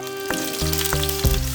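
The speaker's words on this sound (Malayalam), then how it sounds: "നമുക്ക് അങ്ങനെ ചിക്കൻ പീസ് ഇട്ട് കൊടുക്കുക ഗൈസ്." Chicken wing pieces frying in hot oil give a loud, steady sizzle close up, with several sharp crackling bursts as the pieces hit the pan.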